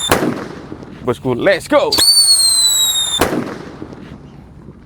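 A King Thunder firework goes off with a sharp crack, then a rising shrill whistle that runs for more than a second and ends in another loud bang. A voice comes just before the burst.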